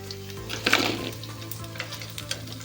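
Soya chaap frying in oil, a continuous crackling sizzle with a brief louder burst early on and light scattered pops after.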